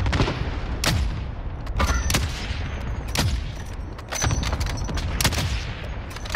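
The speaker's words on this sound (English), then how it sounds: "Oh, that's a cluster strike." Cluster strike explosions in Warzone crack out as a rapid series of sharp, loud booms and blasts in irregular bursts, layered with distant rumbling fire across the whole stretch.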